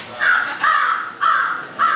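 Crows give four loud, close, harsh caws in an even rhythm, each about half a second long with short gaps between.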